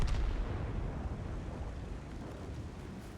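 Heavy tank cannon fire in the Brennos tank video game: a dense, rumbling barrage of booming shots with deep low-end weight, sustained loud throughout without speech.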